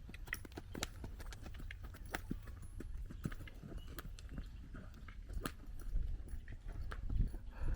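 A horse lopes at a canter, its hooves thudding in a quick, regular rhythm on the ground, fairly faint and distant with scattered soft knocks.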